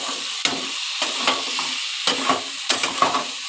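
Ginger garlic paste and spices fry in a pan with a steady, close sizzle. A spoon stirs them in repeated scraping strokes about every half second to second.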